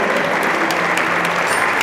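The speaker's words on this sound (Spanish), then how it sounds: "El aplauso a la señora Ana Leticia Cortés Santander" Dense, loud applause fills a dinner ceremony honoring neighborhood leaders, steady clapping from many hands with no pause.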